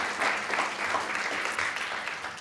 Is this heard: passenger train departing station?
no